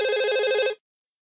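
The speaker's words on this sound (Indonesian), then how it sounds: "Ada telepon." A telephone rings in a Doraemon cartoon: one short, clear electronic ring lasting under a second, then abrupt silence.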